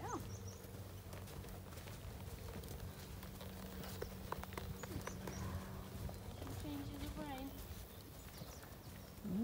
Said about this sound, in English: that horse in the field is Sparko